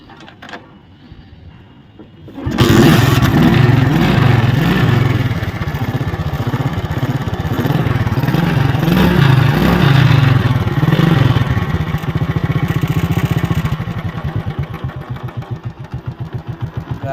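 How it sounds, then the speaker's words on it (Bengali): A Jialing 70cc motorcycle engine is quiet at first, then fires up and settles into a loud, steady, close running idle with an even mechanical clatter. The engine eases slightly toward the end. "এবার আপনাদেরকে ইঞ্জিন সাউন্ড শোনাবো।"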